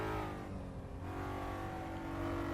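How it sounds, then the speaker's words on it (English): BMW M3 engine in the BMW M3 Challenge racing game, a steady revving mid-pitched drone with dense harmonics, held loud and continuous with a slight dip then rising again. "engine sounds very similar to an actual M3 car"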